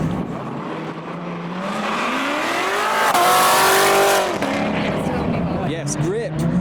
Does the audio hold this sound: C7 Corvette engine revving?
yes